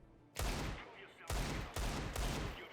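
Three bursts of gunfire in Counter-Strike 2, each a sharp loud volley of rapid shots separated by brief pauses, close and dominant with no talking.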